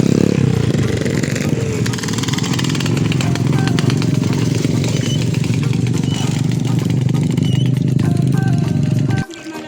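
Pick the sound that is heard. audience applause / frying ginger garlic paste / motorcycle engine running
motorcycle engine running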